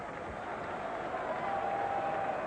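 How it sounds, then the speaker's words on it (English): Spectators at the 1999 England versus New Zealand second Test give steady, distant applause as Philip Tufnell walks out to bat, a soft continuous wash of clapping from the stands with a faint tone beneath. "To tumultuous applause, Philip Tufnell enters the arena."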